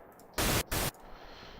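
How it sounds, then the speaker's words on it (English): Two short, loud bursts of synthesized white noise shaped into drum hits for a heavy dubstep track, the second slightly shorter, with quiet hiss between and after. "Try and do like drums literally just out of white noise"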